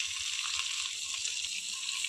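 Okra sizzles steadily in a pan with green chillies, a constant high hiss of frying oil with faint soft crackles underneath and no one talking.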